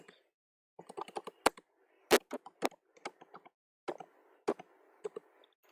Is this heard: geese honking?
no